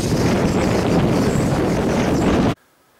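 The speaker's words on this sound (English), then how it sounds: "It was very windy." Strong wind in Corsica buffets and roars across the microphone for about two and a half seconds, then cuts off abruptly into near silence.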